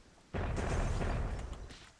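A sudden loud blast erupts in the Myth II Soulblighter strategy game, then rolls into a dense, rumbling wash of overlapping explosions that fades slightly over two seconds.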